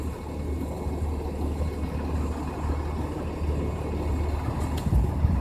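A bus passes by on a street, a sustained low engine rumble and road noise that swells slightly toward the end, with a short hiss near the close.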